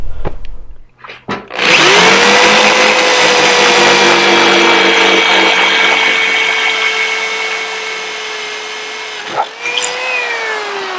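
Power drill boring holes through an aluminum jack plate for a Power Pole install, a loud, steady whine that holds for about nine seconds after a few short starts, then dips briefly near the end before carrying on, close and alone.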